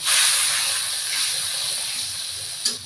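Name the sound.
water and chili and cumin paste sizzling on fried onions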